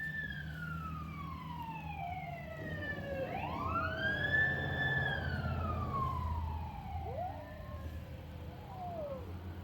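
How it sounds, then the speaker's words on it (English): Several emergency vehicle sirens wail at once outdoors near a pump restoration, their pitches rising and falling and overlapping, with one sweeping close and loud in the middle, over a steady low background hum. "It's quite a bunch of sirens, huh?"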